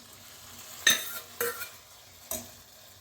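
Cooked toor dal being scooped into a sambar pot: three soft, wet plops with slight scraping, spaced about half a second to a second apart, close and quiet with no talking.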